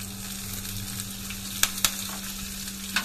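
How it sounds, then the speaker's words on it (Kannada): Chana dal frying in a hot oil tempering for a wedding-style Mangalore cucumber sambar, a steady crackling sizzle with a constant low hum beneath and two or three sharp spatter pops, close and without talk. "ಚೂರು ಕಡಲೆಬೇಳೆ, ಆನಂತರ ಸ್ವಲ್ಪ ಇದನ್ನು ಈ ರೀತಿ ಫ್ರೈ ಮಾಡುವ"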